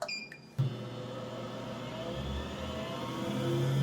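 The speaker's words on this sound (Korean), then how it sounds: "엄청난 소리와 함께 RPM이 올라가는군요" A laboratory centrifuge spinning up for a hematocrit test with capillary tubes, starting with a click and then a steady, rising motor whir and hum that grows louder as the speed climbs toward 12000 rpm.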